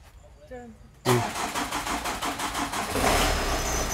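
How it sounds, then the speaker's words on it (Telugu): A Tata Indica Vista engine cranks briefly and catches, settling into a steady, fairly loud idle after a quiet moment with faint talk before the start. "సో వెహికల్ స్టార్ట్ అయిపోయింది."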